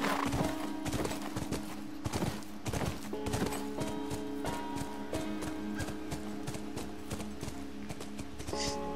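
Horse hooves clip-clop in the video game The Last of Us, a steady walking rhythm of close, repeated hoofbeats over a constant tonal game ambience.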